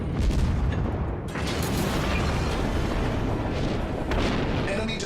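A torpedo strikes a warship in World of Warships, a heavy booming explosion with rolling, sustained rumble and debris noise lasting several seconds, loud and dense throughout.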